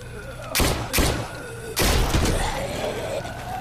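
Gunfire in the zombie shooting video game New Frontier: a few loud, heavy shots and bursts in quick succession, close and booming, with a lingering rumble afterward.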